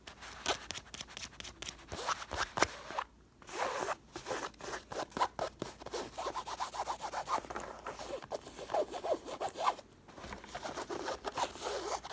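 Close, rapid scratching on a black zippered pouch with white designs, working over the fabric and its zipper pull in a dense, continuous run of rustles and zipper clicks with no talk.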